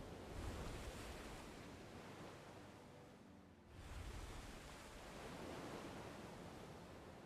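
Ocean waves crash and wash in the video game Black Desert, a steady surf roar that dips briefly midway and then swells again, with no talking.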